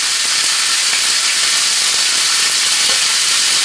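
Beef tenderloin sears in a hot pan, a steady broadband sizzle and hiss that holds at constant loudness throughout, close and continuous with no talking.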